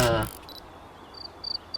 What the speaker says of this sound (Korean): 귀뚜라미 많잖아